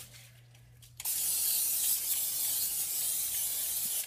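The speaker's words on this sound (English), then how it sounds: "And then I'll take some olive oil spray." After a second of quiet, a steady olive oil cooking spray hisses continuously for about three seconds, close and fairly soft.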